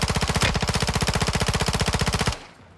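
Sustained automatic fire rattles from a video game's machine gun, a rapid, steady burst of evenly spaced loud shots lasting about two seconds before cutting off abruptly into quiet.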